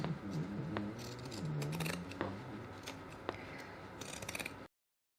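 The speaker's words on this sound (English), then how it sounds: "grabbing your pinking shears, I'm just going to do some trimming again" Pinking shears trimming fabric at a sewing table, with a few soft, faint cutting snips and light mechanical clicks in a quiet room before the sound stops abruptly.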